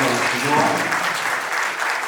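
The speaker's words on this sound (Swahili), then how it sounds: "Makofi jamani" An audience at a World Kiswahili Day celebration applauds, a dense and steady clapping that holds through the whole moment, with a voice faintly mixed in.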